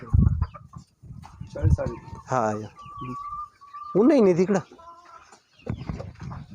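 Hens cluck and call on a poultry farm of about sixty to sixty-five birds, close by in short bursts, with someone talking over them.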